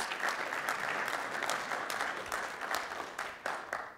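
An audience at a symposium applauds steadily, a thick continuous wash of many hands clapping that fills the whole stretch at a modest, somewhat distant level, with no voice over it.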